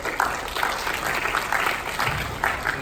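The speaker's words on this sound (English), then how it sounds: "So big more round of applause for the CEO of the Outloud Group, Joel Beckett." An audience applauds at a VidCon panel, a dense, steady clatter of many hands that swells in short waves and stays loud throughout.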